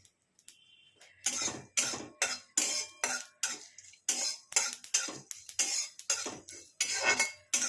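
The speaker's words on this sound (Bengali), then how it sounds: "শুকনো খোলা সেঁকে শাঁকছি এটা, তাতে গুঁড়ো করতেও সুবিধে" Spices are dry-roasted in a hot, dry pan for mango chutney. About a dozen rhythmic scraping, rattling bursts of stirring repeat roughly every half second, each fading quickly in a quiet room.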